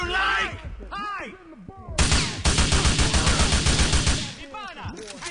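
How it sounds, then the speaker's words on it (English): Gunfire in the video game GTA 4, a dense burst of rapid automatic shots lasting a couple of seconds, loud and close, with shouted voices and game dialogue before and after the volley. "He's shooting!"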